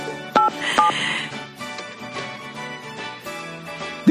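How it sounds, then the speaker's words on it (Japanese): Two short telephone keypad tones are heard early on, followed by a line tone and a few faint beeps, all under a soft background music bed during a live radio broadcast. "ちょっと電話をしてみましょうか。"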